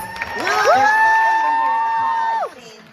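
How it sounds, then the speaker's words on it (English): A comic con panel crowd cheers loudly, with a long sustained whoop and shouting over scattered clapping. The sound swells and then cuts off near the end. "Give them a round of applause."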